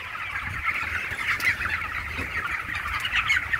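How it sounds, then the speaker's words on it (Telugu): Chickens at a village chicken farm cluck and squawk in a busy, continuous flock chatter over low background noise. The birds sound fairly close, with no voices. "చూడండి కోళ్ళ ఫారం"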